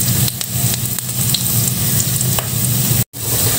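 Garlic and onion frying in olive oil, giving a bright, steady close sizzle with occasional crackles and a short scrape of stirring, plus one brief sudden gap near the end.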